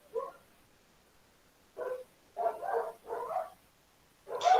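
Several short dog barks come in separate bursts, one at the start and then a cluster of four close together near the end, each moderately loud against a quiet background.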